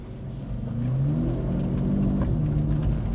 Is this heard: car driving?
yes